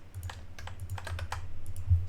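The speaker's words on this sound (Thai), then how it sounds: "กด Ctrl C กด Shift แล้วก็จิ้มเมาส์แล้วก็ Ctrl V" Rapid keyboard typing with brief key-combination presses for copy and paste while working through a spreadsheet puzzle walkthrough, a steady run of close, crisp clicks over a low background hum.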